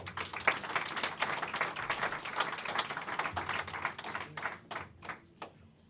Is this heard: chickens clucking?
no